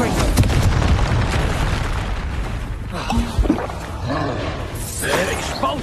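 Confringo fire spell blasts in Hogwarts Legacy, a dense rumbling explosion burst up front with crackling fiery debris, followed by lighter magical pops and whooshes while a voice shouts over the action.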